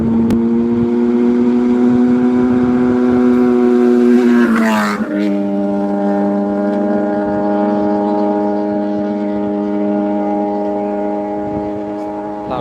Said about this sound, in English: Loud bike.